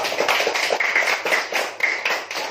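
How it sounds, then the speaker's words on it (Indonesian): A classroom of students claps for a presenting group, brisk close handclaps in quick uneven bursts filling the short stretch without speech. "Oke, tepuk tangan untuk kelompok 1."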